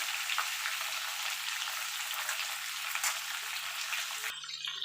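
Potatoes and pointed gourd fry together in oil with a dense, steady hiss of sizzling that cuts off abruptly near the end, quiet and close.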